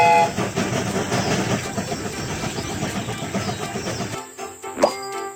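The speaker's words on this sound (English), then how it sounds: "The train is about to start." A video-game train gets under way on its rails, with a continuous loud rolling and clattering rumble that drops away near the end, followed by a short bright chime.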